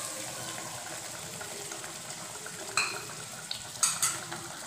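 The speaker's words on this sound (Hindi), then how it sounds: "इसमें मैं 1 कटोरी पानी ऐड कर रही हूँ।" A bowl of water is poured into a hot pan of frying dahi parwal (pointed gourd) masala, giving a steady close sizzle and stirring with a few brief sharp splashes and hisses toward the end.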